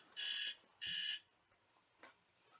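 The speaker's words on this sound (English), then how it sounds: "phone alarm's going off" Phone alarm going off indoors with two sustained electronic beeps in a row and a fainter third tone after a pause, quiet and alone without talking.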